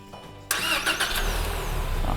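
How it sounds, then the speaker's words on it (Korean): A Ford Explorer SUV starts up by remote start, with a sharp crank catching into a steady, close idle after a quiet moment; no talking. "이런 식으로 스마트 키로만 시동이 걸립니다"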